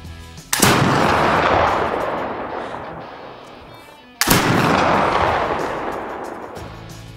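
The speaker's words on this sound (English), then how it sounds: "With a muzzle loader, you need all this stuff to make it go bang" Two sharp, loud flintlock muzzle-loader rifle shots crack out a few seconds apart, each followed by a long rolling outdoor echo that fades slowly.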